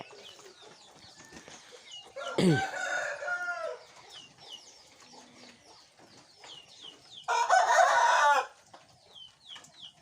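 Fighting cocks kept in a home backyard on a rainy day. A rooster gives two loud, close crows several seconds apart, with softer clucking and distant bird calls between them.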